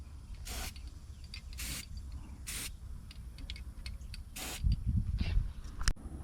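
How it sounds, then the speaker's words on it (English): Several short bursts of aerosol spray paint hiss over a welded receiver hitch, each lasting under a second with pauses between, close and fairly loud against a low rumbling background. "Think we should put some paint on there?"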